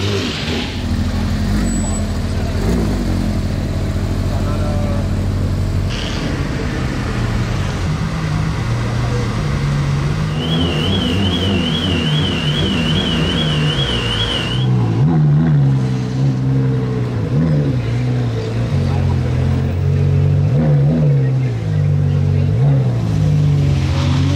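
A Bugatti Chiron on a Monaco street starts and revs behind people talking, its loud engine rumble rising and falling under the voices with steady traffic noise.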